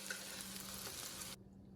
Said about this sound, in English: So I'm going to finish frying these up